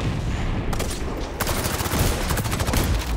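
Shotgun fire in the video game XDefiant: a dense burst of loud, booming shots rolling one after another over a constant battle din, close and heavy.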